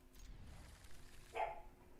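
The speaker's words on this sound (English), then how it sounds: "dog's barking" A dog barks once or twice in the distance, faint and brief, in an otherwise quiet room.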